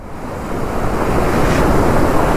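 Water surges and roars over a dam near Theni, a dense steady rush that swells slightly louder as it continues, with no voices over it.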